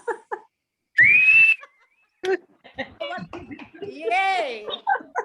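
A person gives a short, rising whistle at a club gathering, followed by chattering voices and laughter, with a warbling, wavering whistle-like sound mixed into the lively talk.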